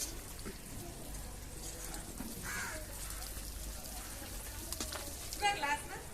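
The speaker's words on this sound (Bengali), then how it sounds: "ঝোলটা ফুটে উঠেছে, আমি এবার মাছ আলু একসাথে দিয়ে দিচ্ছি।" Fish and potatoes go into boiling gravy for a tangra fish recipe, giving soft, quiet bubbling and sizzling with a few brief splashes near the end.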